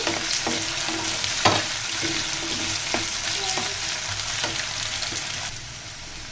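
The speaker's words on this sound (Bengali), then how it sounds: "সুন্দর করে আমি ভেজে নিব। বন্ধুরা, আমি আবারও নেড়ে চেড়ে দিচ্ছি।" Spinach frying in oil with a constant sizzle, punctuated by occasional scraping and clinks of a spatula stirring, close up.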